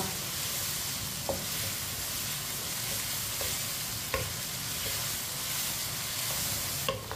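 Garlic and onion fry in a pan over a medium flame for aloo gosht, giving a continuous close sizzle and hiss with a few light scrapes of stirring, and no one speaking.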